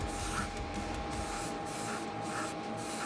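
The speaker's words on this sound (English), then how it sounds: "apply a glaze of army green through the airbrush over the Zenithal base coat" An airbrush spraying a thin glaze of army green paint mixed with flow improver and airbrush medium over a model, giving a steady, close, continuous hiss with a faint tonal whine.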